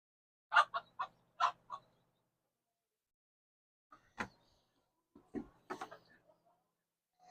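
Chickens cluck in short bursts, one quick run of clucks near the start and then scattered clucks later, all fairly close against a quiet background.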